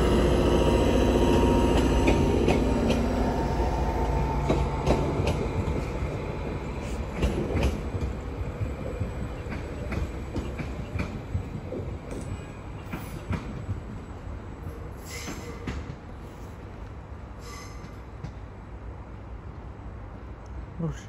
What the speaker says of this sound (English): Centre to depart now is 755336 on the 1416. Greater Anglia service to Lowestoft.